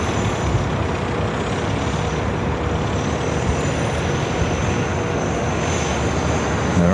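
Korean Air Boeing 747-8i airliner moving on the ground at LAX, a loud, unbroken engine roar and rumble holding steady throughout.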